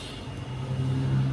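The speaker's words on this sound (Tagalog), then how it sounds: "Na-traffic na tayo." Car traffic on a congested city road gives a low, steady engine rumble close by that slowly builds in loudness, like a vehicle revving or creeping forward, with no voices.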